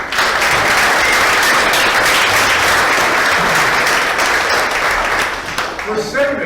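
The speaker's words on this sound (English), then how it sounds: "So can we give them applause?" An audience at a museum's annual juried art exhibition awards event claps loudly and steadily for several seconds, a thick even wash of applause that thins out near the end as a voice begins to speak.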